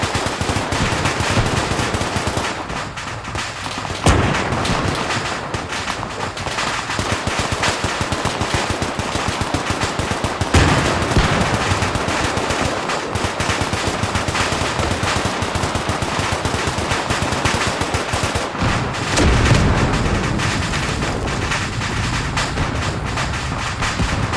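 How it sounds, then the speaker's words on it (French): Sustained machine-gun and rifle fire rattles through a World War II tank battle in Spearhead 1944, set during a defence of Saint-Denis-le-Gast, with dense, loud bursts running almost without pause and brief lulls between volleys. "On se prend des tirs encore."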